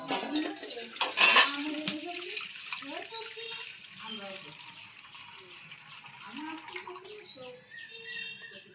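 Rice is washed in a pot with water. A brief burst of splashing and clinking comes early, then quieter sloshing continues while a person talks over it.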